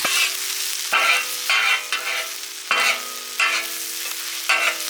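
Ginger, garlic and green chilies fry in a pan for spicy village-style chilli prawns. A steady, close sizzle is broken every second or so by scraping stirs, and no one speaks.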